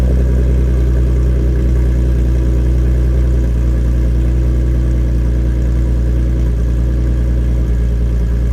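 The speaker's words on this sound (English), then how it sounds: "especially at idle, you can just hear the car idle and it's super satisfying" A car fitted with a Nissan VQ V6 engine sits at idle, giving a deep, steady, close-up rumble with an even, unchanging drone throughout and no voices.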